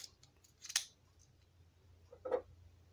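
Paper crinkles and snaps in a few quick, soft bursts while a small paper channel mascot is folded, close and quiet over a low steady hum.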